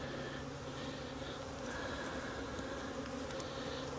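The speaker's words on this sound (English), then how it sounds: "A lot of bees" Dense, steady buzzing of many honeybees around a hive at an apiary, a continuous close swarm drone filling the air without pause.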